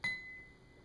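A single clear ring of a Gorham crystal glass, one quick struck ping whose bright tone lingers and fades over under a second, faint and alone.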